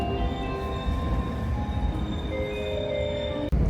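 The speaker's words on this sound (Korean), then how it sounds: "지금 들어오는 IR 이시카와 철도 열차를 타고 가나자와역으로 가겠습니다." An IR Ishikawa Railway train pulls into Komatsu Station, a steady, faint rumble with a humming tone and a short clunk near the end, heard from the platform.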